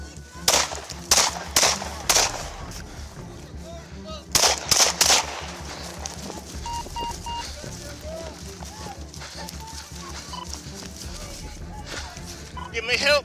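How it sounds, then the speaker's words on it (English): Several sharp gunshots ring out in two bursts during a tense police operation, loud and close, followed by quieter shuffling and background noise with occasional voices. "Shots fired."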